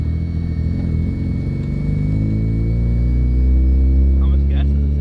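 Engine of an FC car that sat for 15 years, idling with a steady low rumble and rising slightly toward the end, with voices talking over it.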